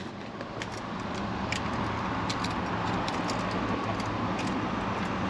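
A 1976 Chevy C10 engine fires up on the ignition key, a dense rumble swelling in after a brief moment and then settling into a steady, close idle with no throttle blips and no talking.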